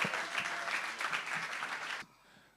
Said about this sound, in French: On peut les applaudir.